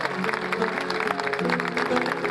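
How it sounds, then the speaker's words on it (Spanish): Crowd at an outdoor jineteada rodeo in Alcaraz, Entre Ríos, applauding a rider, a continuous spread of clapping hands heard at moderate distance with a faint voice over it. "¡Aplaudímelo a Luis Kaiser!"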